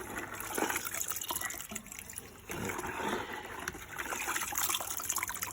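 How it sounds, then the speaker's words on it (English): Water pours steadily from a tap into a container for soaking wood chips, a continuous close gush with a slight dip partway through. "Fill up the container."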